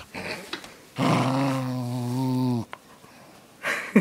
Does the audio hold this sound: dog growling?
yes